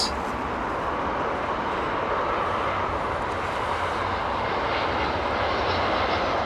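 A jet airliner taking off at Heathrow in a crosswind produces a loud, sustained engine roar, steady and close, with a broad rumbling low end and a slight swell toward the end.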